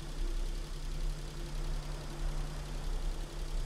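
A steady low engine drone with a constant hum from a boat-car in a SpongeBob video game, idling evenly without revving.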